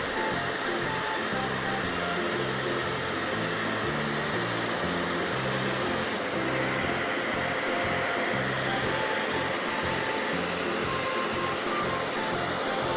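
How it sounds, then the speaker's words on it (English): A hair dryer blows steadily on a picture book, a loud, continuous close whoosh and motor hum that stays level throughout with no pauses. "Finally, blow dry picture book."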